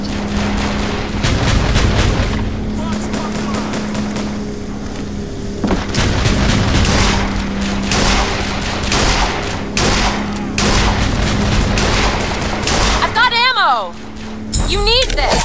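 Rocket explosions and rapid gunfire from a BioShock Infinite battle, loud and near, with dense crackling bursts and booms running almost continuously, and a brief whooshing sweep near the end.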